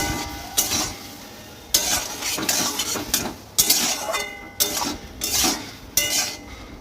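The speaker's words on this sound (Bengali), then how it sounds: "ভালো করে কষিয়ে নিচ্ছি" Pointed gourd with ginger, cumin-coriander and garam masala paste being stirred in a metal pan, with repeated scraping clanks of a spatula against the pan every second or so over a low frying hiss.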